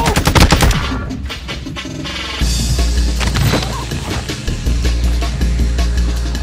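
Rapid automatic gunfire in Call of Duty: Warzone 2.0 bursts loud and close, with dense rattling volleys and heavy low thumps running nearly throughout.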